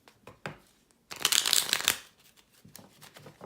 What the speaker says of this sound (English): I got one more shuffle.